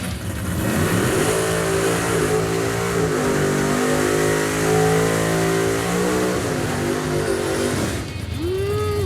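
A 1981 Chevy Camaro engine revs hard and holds high during a burnout, rising and falling in pitch, loud and close, ending with a sharp rev swell.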